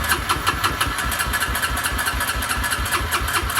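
A Honda Rancher ATV engine runs steadily at idle with only the first section of exhaust pipe fitted, a rapid, even mechanical pulsing that stays loud and close throughout.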